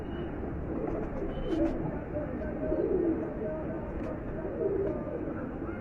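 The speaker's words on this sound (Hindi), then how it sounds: "ये राणा साहब की तरफ से आए हैं, प्योर कबूतर हैं" Pure-bred pigeons coo softly and repeatedly in a steady low murmur, with faint chirps over a continuous background of similar birds close by.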